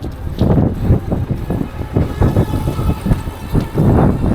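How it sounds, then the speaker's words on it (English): Strong wind buffets the microphone beside Navy Pier in Chicago, coming in loud, continuous gusts that rumble and surge throughout with no pause. "if you can't tell, it's quite windy."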